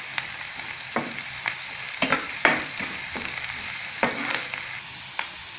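Onions frying in a pan give off a continuous close sizzle, broken by several sharp scraping strokes of a stirring spoon spaced about a second apart.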